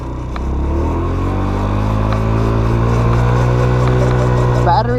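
A Tao Tao Baja SC50 scooter with a GY6 engine runs on a cold night ride, holding a steady, close droning hum with a faint rising rev near the end, under occasional speech.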